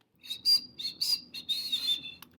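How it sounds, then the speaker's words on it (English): A House Finch sings a lively, jumbled warble of short high whistled notes, irregularly spaced and rising into a longer run of chirps near the end, with no talking. "House Finch."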